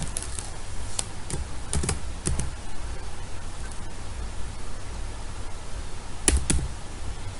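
Typing on a computer keyboard while coding, a few quick clusters of key clicks and taps close by, over a faint steady hiss.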